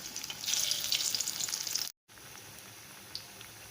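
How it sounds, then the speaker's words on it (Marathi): Alu vadi, rolled colocasia leaf slices, deep frying in hot oil, giving a steady bright sizzle that cuts out briefly near the middle and then returns as a quieter, softer bubbling. "तेल गरम झाल्यानंतर त्याच्यामध्ये मी वड्या सोडत आहे."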